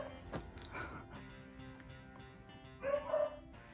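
A dog barks a few times in the background, faint and somewhat distant, with one short burst of yips near the end.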